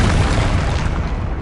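A Confringo fire spell detonates in Hogwarts Legacy as a loud, continuous booming blast with deep rumble, filling the whole moment without a clear break.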